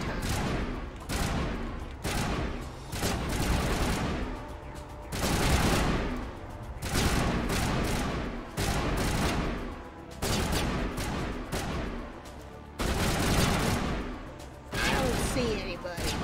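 Sustained bursts of loud gunfire from the Mass Effect Legendary Edition video game, with repeated rapid volleys and short gaps across the whole stretch, mixed with background game noise.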